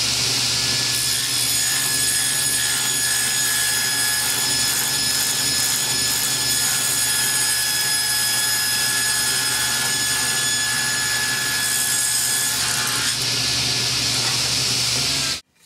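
A table saw cuts a board along the rip fence, a sustained loud whine of the spinning blade with steady hissing cutting noise that runs evenly for many seconds before cutting off abruptly at the end.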